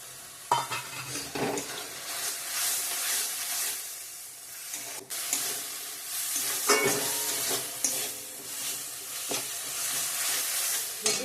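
Green peas fry in a spiced pan, sizzling with a bright, constant hiss while a spoon scrapes and stirs in repeated strokes, close and fairly loud, with an occasional clack against the pan and no talking.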